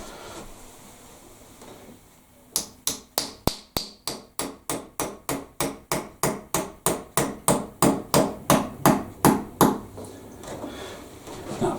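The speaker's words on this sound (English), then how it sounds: "then I'll just push it in until it get a resistance with the hammer" Steady hammer blows drive a screw into a solid wall for a grab rail, around twenty-five sharp knocks in an even rhythm that grow slightly louder, after a short quiet lead-in.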